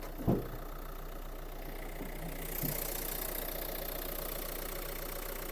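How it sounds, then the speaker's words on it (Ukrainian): A Renault Scenic engine idles steadily with a low continuous hum, preceded by a brief knock or thump at the start. "Робота двигуна."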